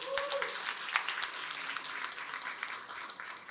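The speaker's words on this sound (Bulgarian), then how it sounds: "Аплодисменти още веднъж!" Applause from an audience at a Best Employers Bulgaria corporate event rolls on steadily, a moderately distant crowd clapping continuously at an even level throughout.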